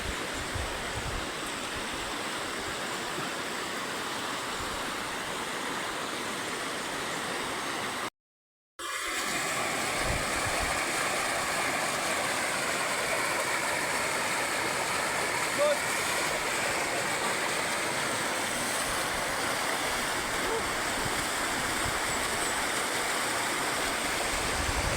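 Taginis Falls waterfall flowing, a steady broadband rush of falling water that continues without letup except for a brief dropout partway through.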